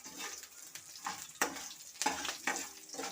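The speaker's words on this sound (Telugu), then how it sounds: "ఇప్పుడు ఇవన్నీ వచ్చేసి ఫ్రై అవ్వాలి ఒక 2 మినిట్స్." Semiya idli mixture frying in a pan, a close crackling sizzle that rises and falls in bursts as it is stirred, no voices.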